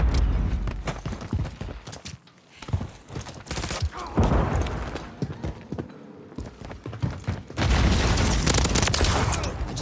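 Dense bursts of gunfire in a Call of Duty Modern Warfare 3 team deathmatch on the Rio map, loud and near, with rapid shots and impacts broken by brief lulls before a sustained heavy volley.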